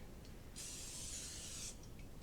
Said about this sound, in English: so I'm going to spray my Bundt pan